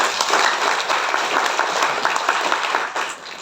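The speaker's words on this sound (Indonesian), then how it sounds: "Tepuk tangan dulu." A gathering of an Islamic community organization bursts into loud, close applause, a thick burst of many hands clapping that holds steady before tapering slightly at the end.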